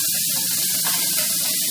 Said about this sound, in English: we're just searing this beef